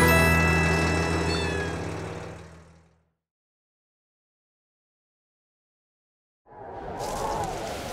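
Cartoon cats from a children's nursery rhyme show meow in a long, loud, drawn-out cry that fades away. A few seconds of silence follow, then a burst of brighter, noisier sound.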